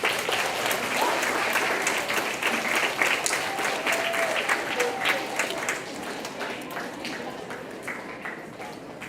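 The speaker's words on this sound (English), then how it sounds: "as I call them up, just clap" An audience at a school graduation claps as students are called up one by one, a strong sustained round of applause with some individual claps standing out, easing slightly toward the end, with talking mixed in underneath.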